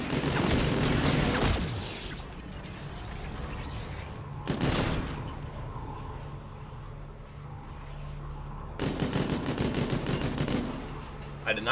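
OSA rifle fire against zombies in a video game, several loud rapid bursts separated by quieter stretches of ambient game noise, with a voice speaking faintly between shots.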